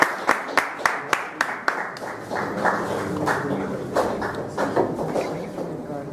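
Audience at a Hindi kavi sammelan poetry gathering clapping, first a few distinct separate claps, then a denser, moderately loud round of applause from a small crowd indoors.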